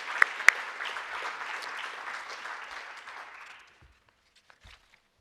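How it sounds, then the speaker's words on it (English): A summit audience at a patient conference closing session applauds steadily for a few seconds, the clapping tapering off into near silence with a few stray sounds. "So let's give a round of applause to everyone."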